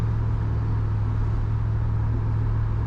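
Steady, close idle of a brand-new 5.3 V8 fitted in Austin's truck, a continuous low rumble and drone with no change in pace and no talking.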